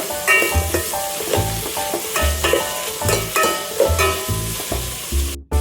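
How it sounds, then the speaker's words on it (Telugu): Carrots and beans stir-fried with chillies in a pan, loud sizzling broken by repeated scraping stirs in a steady rhythm, with a short clatter at the end. "క్యారెట్, బీన్స్ కూడా యాడ్ చేసుకోవాలి. ఇవి కూడా మిక్స్ చేసుకోవాలి మంచిగా."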